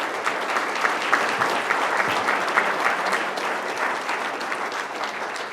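Audience at a school board and city commission candidates' forum giving a steady round of applause, a dense, even wash of clapping from many hands, moderately loud and sustained with no speech over it.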